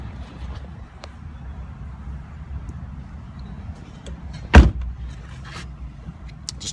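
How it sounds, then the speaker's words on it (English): A car door slams shut once, a sharp close thud standing out after quiet rustling of someone getting into the car, with light wind noise and faint clicks around it. "I'm gonna get in the car to finish this."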